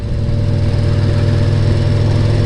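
A steady, loud Kawasaki Z900 motorcycle engine drone rumbles continuously at close range, a low throbbing exhaust note with no talking.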